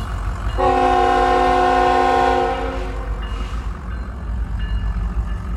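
A loud train horn blares for about two seconds over the heavy rumble of a passing train, which keeps rolling after the horn stops.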